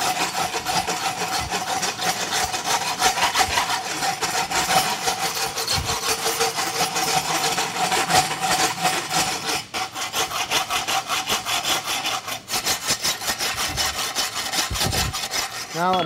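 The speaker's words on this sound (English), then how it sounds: "I'll rasp the whole second half of the shoe." A farrier rasps the second half of a concave egg bar horseshoe held in a vise at a blacksmithing competition, giving a steady, loud, continuous rasping scrape for the full length with no talk.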